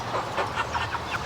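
Meat chickens, broad-breasted birds raised on unlimited feed, cluck softly in a short burst of repeated calls close by, with no talking over them.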